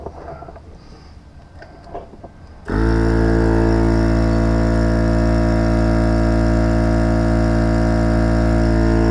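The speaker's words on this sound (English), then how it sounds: "we're going to try the cigarette output to refill this tire with my tire pump" A tire pump powered from the cigarette output of an AUTOGEN 4000A car jump starter switches on abruptly after quiet background noise, then runs with a loud, steady motorized drone close by.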